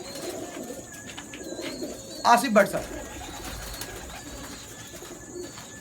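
Pigeons being sold by a breeder give a brief burst of cooing and wing or call sounds midway, against a steady background murmur and a voice speaking briefly.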